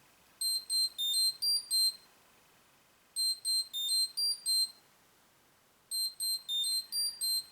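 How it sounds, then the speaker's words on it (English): A Mighty Morphin Power Rangers Bluetooth toy communicator plays its ringtone in a loop: three bursts of rapid, high-pitched warbling electronic chirps separated by short silent gaps, clear and close. "this will start playing the tone, but it will do it in a loop this time"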